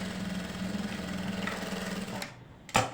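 Sewing machine stitching a seam on a readymade kurti, a steady low mechanical whir running continuously for a couple of seconds before stopping, followed by a brief clack, heard fairly quietly.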